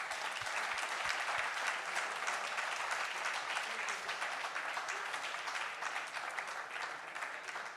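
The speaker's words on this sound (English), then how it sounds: "Applause, please" Steady audience applause fills an event hall after a technical presentation at an energy boat challenge in Monaco, a dense, even wash of many hands clapping that holds throughout at moderate level.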